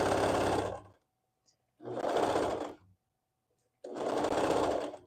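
A sewing machine stitches a Summit Peak hoodie in three loud, close bursts of rapid whirring, separated by short silent pauses.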